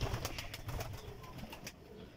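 Close, low cooing from Parwazi pigeons kept in a Sialkot loft, a rippling burble with a few rounded pulses that fade slightly toward the end. No one speaks.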